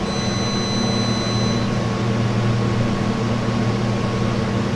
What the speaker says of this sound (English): So here's the compressor. So you can hear.